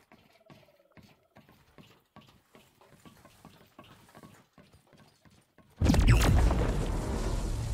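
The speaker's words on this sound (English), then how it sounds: "From explosion, yeah." A loud explosion bursts in suddenly near the end in the video game The Cycle: Frontier, after a stretch of quiet rapid footsteps and clicking. The blast starts sharp and then holds as a heavy, sustained roar.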